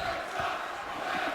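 A dense basketball arena crowd fills the space with a sustained roar of disapproving voices and murmuring that stays loud and constant throughout.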